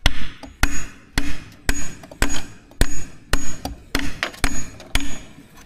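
A hammer strikes wood again and again, a dozen sharp, close, evenly spaced blows roughly every half second, with nothing else heard between them.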